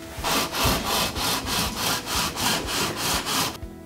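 Rapid back-and-forth scrubbing of 320 grit sandpaper on a wooden electric guitar body, about a dozen even rhythmic strokes, close and clear with no talking.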